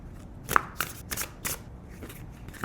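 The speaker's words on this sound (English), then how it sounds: "So, then you could shuffle the cards." Crisp riffling bursts of cards being shuffled, several quick flutters in a row, close and fairly quiet.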